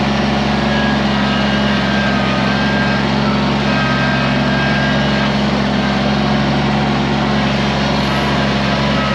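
A Kubota BX compact tractor engine runs steadily and loudly up close while pushing logs toward a woodpile, a continuous low drone with no talk.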